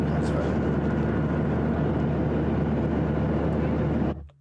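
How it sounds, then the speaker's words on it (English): Loud, steady jet engine roar heard from inside an aircraft cabin on a phone, a constant low rumble with broadband hiss that holds evenly and then cuts off abruptly at the end. "just imagine jet engines next to you"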